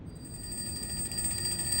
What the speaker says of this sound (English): Another alarm clock starts ringing from somewhere in the room.